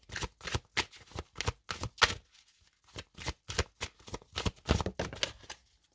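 Tarot cards being shuffled and drawn by hand, a close, soft run of rhythmic riffling flicks and slaps with a short pause partway through, no voices.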